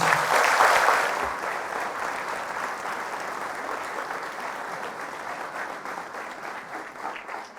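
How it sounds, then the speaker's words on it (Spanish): A church congregation breaks into strong applause, loud and dense at first, then settling into a steady sustained clapping that slowly thins toward the end, with no voices over it. "Fuertes aplausos al Señor Jesús"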